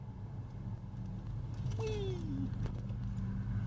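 A 1984 Chevrolet Caprice with newly replaced brakes pulls off along a side road, its steady low engine rumble running throughout while a voice lets out a brief excited shout midway.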